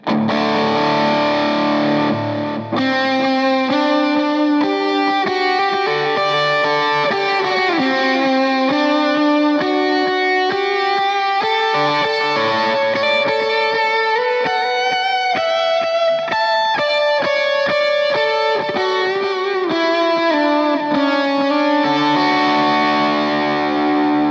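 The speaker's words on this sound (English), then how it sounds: "With FS4 mapped to the distortion module, I can turn on overdrive." Electric guitar through a Line 6 POD Express with the overdrive switched on, playing a worship-style tone modeled on a Matchless amp; sustained distorted chords and melodic lines ring out continuously and loudly, alone, with no talking.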